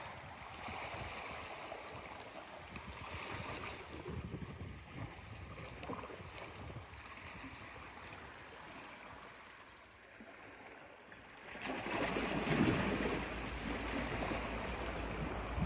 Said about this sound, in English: You hear kind of a whoop whoop sound, which means the water is going underneath rocks